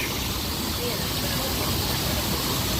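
Waterfall at Knott's Berry Farm near a pontoon bridge, a steady broadband rush of falling water that fills the whole clip at an even level, with no voices.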